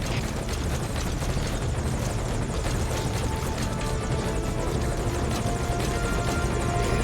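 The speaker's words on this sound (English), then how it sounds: "Those aircraft will be in strike range any second." A military helicopter approaching in the Metal Gear Solid V: Ground Zeroes video game, a steady thudding rotor chop over a low engine drone that holds fairly loud and constant throughout.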